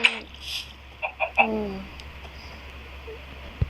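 A Minecraft chicken gives a few short clucks, close and moderately loud, within a busy game soundscape, with a low steady hum beneath and a brief thump near the end.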